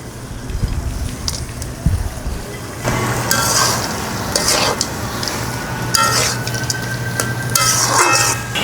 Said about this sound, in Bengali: এখন ভেজে রাখা কুমড়া বড়ি দিয়ে দিচ্ছি